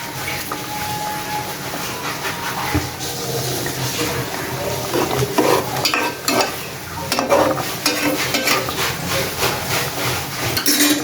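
Rohu fish curry with coriander leaves cooking in a pan, giving a steady close sizzle with scraping stirs and utensil clatter throughout, no talking.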